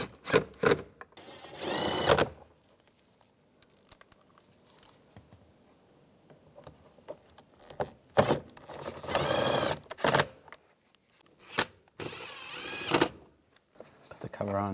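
Screws driven in on a rear exterior door handle cover of a 2015-2020 Cadillac Escalade, heard as several loud buzzing bursts from a power driver separated by quieter handling noise.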